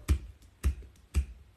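Three evenly spaced dull, soft finger-snap attempts by dry, papery, unshaved hands, each a muffled thud rather than a crisp crack, close and alone.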